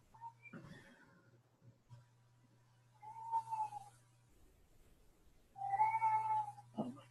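A cat meows twice, drawn-out and fairly close, over a low steady hum in an otherwise quiet room.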